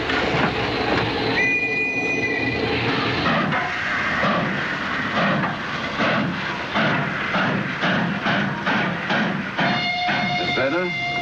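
A passenger train with a dining car rolls along the rails, a loud, continuous rumble with rhythmic wheel clatter and high squealing tones rising near the end.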